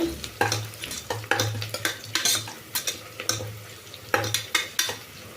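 Chicken gravy masala sizzling in a pan while a spoon scrapes and clinks against the metal in repeated uneven strokes, close and fairly loud over a low frying hiss.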